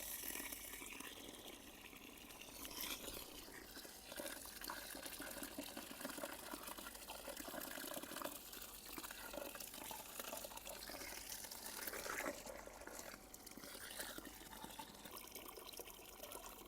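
Water from a motor pump pours steadily into a container of grains being washed, a continuous splashing gush outdoors in a village setting that runs on without pause.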